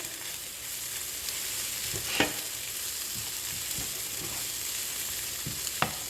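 Cabbage is added to vegetarian fried rice with egg in a hot pan. A steady, loud sizzle runs throughout, broken by a few sharp clinks and scrapes of stirring.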